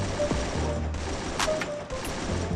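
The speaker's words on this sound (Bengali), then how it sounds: "আমি তার পিক পাওয়া মাত্রই তার উপর ফায়ার করা শুরু করে দেই" Automatic AK-47 fire in Counter-Strike: a steady, dense stream of close gunshots across the whole moment, with a couple of sharper bursts partway through and no talking.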